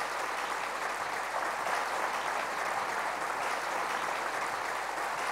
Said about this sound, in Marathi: आपण आंदोलनात उतरत नाही पण टाळ्या तर वाजवू शकतो.